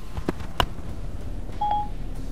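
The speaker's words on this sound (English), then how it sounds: "she makes a phone call to whoever you want her to call" A call placed by voice through Apple CarPlay in a car, with a few short dialing clicks followed by a single clear electronic beep tone. The tones are quiet and stand alone with no talking.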